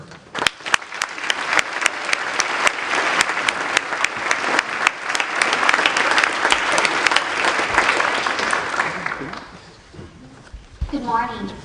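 An audience at a Cum Laude ceremony at The Kinkaid School bursts into applause welcoming a returning speaker. Sharp opening claps swell into sustained clapping that fades out near the end before a voice begins.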